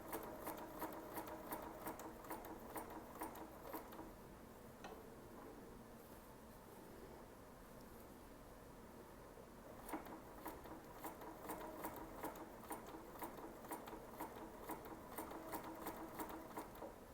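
A sewing machine stitching curved paper-pieced fabric runs in steady rapid bursts, pauses briefly midway, then resumes its quick mechanical patter, fairly faint and close.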